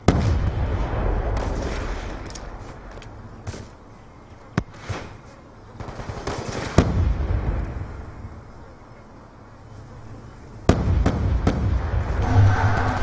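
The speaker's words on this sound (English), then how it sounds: "Wasting an nade too in his own spawn, not even throwing it anywhere on the map." Grenade and gunfire bursts in a hardcore-mode online shooter match, several sharp booms and cracks scattered among rumbling background action, with a commentator talking underneath.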